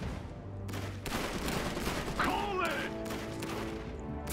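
Battle noise in the strategy game Iron Harvest during a multiplayer match, a dense continuous rumble of gunfire and explosions with a whistling shell sweep midway and faint voices mixed in.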